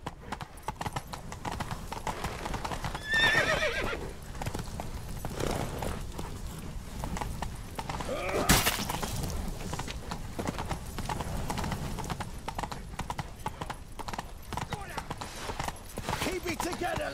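Horses gallop in The Witcher 3: Wild Hunt, a fast continuous clip-clop of hooves running close through the whole stretch, with a brief whinny and shouting voices over the hoofbeats.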